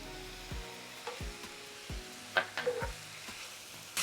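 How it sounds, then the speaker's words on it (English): Thin steak cooking in a pan with Worcestershire sauce, a soft low sizzle broken by a few distinct knocks and scraping sounds of a utensil against the pan, close and fairly quiet. "I'm cooking the steak first because, you know, it's very thin."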